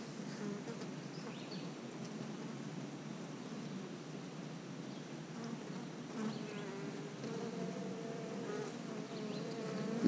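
Honeybees buzzing around an open hive frame holding the queen, larvae and eggs, a steady close swarm drone with a few louder individual bees passing near, no talking.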